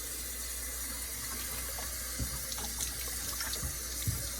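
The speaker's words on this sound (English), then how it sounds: "let the water run for a little while" Tap water running through a rinsed sausage casing of about two inches, a steady gentle rush and trickle with a few small splashes, close and fairly quiet, no speech.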